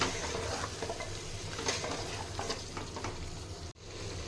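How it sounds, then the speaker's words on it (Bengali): Mutton sautéed and stirred in an oiled pan with a little warm water, a dense steady sizzle with scraping stir sounds, close and moderately quiet, cutting out briefly near the end. "দিয়ে আমি ভালো করে মাটনটা কষে নেব"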